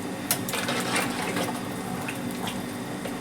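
A steady rush of water pours continuously into a cooking pot while making mutton machboos, splashing softly with a constant, dense sound.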